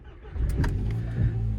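A Volkswagen GTI Edition 30 engine cranks and starts, a short burst of starter whir followed by a steady low idle rumble, close by with no talk.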